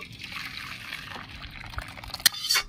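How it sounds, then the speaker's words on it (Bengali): Cooked masoor lentil dal being poured, a faint, soft liquid trickle and slosh close by, ending in a couple of brief clinks. "ডালটা আমি ঢেলে নিচ্ছি।"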